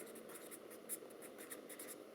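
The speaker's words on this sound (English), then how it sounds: "okay, so I'm going to write equation" Pen scratching across paper while an equation is written for a coordinate geometry maths problem, a soft continuous scribble with brief strokes and taps, close and quiet, with no talking.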